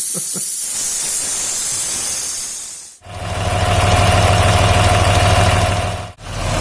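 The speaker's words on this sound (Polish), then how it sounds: "No jak widzicie traktor już chodzi" A John Deere tractor engine idles steadily at close range with a hissing wash on top, cutting out briefly twice.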